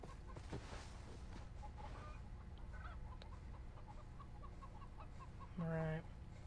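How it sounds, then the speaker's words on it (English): A single short chicken cluck from the video game Far Cry 3 sounds near the end, rising clearly above a quiet, steady in-game ambience. "Chicken."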